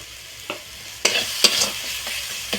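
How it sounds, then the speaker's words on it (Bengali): Spices with cumin powder and turmeric sizzle gently in a pan while a spoon scrapes and stirs in several distinct strokes, close and fairly quiet, with no talking. "মশলাটা আরও কিছুক্ষণ কষিয়ে নেব"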